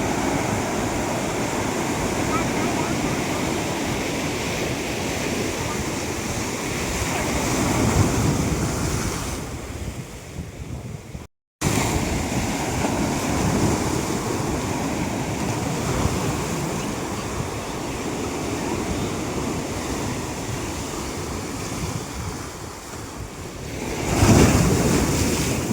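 Ocean waves surge and break at Uppada beach near Kakinada, India, a steady loud wash of surf with strong wind buffeting the microphone throughout, swelling near the end.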